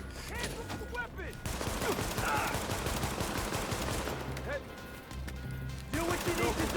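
Rapid pistol gunfire from The Division video game, bursts of quick shots rattling over game ambience and voices, moderately loud with short pauses between volleys.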